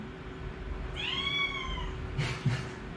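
A cat meows once with a drawn-out, rising-falling cry, then gives two short, sharp mews close by, with no talking.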